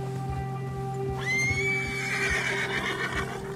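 A horse in Red Dead Redemption 2, spooked by bears, lets out a loud, close whinny that rises sharply and trails off over steady game ambience and low hoof sounds.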